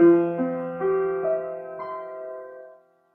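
Synthesized sustained tones representing the TRAPPIST-1 planetary orbits enter one after another, stacking into a layered harmonic chord that holds steadily and then fades out.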